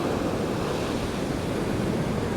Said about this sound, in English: and then you'll get another big wave.